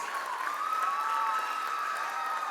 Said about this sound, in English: A big round of applause for the wonderful pupilites.